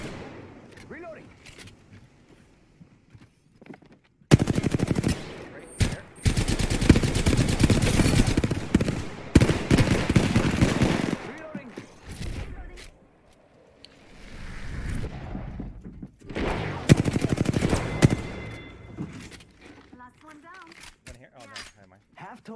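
Video game firefight with bursts of automatic gunfire in loud dense stretches, separated by quieter gaps, with people talking over the action at points.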